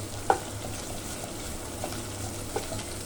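Pork spare ribs being stir-fried and stirred in a pan give a soft, steady sizzle, with a few faint clicks of the utensil against the pan.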